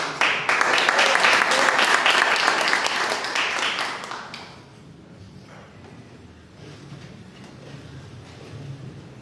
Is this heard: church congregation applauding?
yes